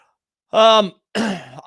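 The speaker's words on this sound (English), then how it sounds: "I got to clear my throat" A man clears his throat twice in close succession, two short harsh rasping bursts close to the microphone, loud and dry, with no other sound around them.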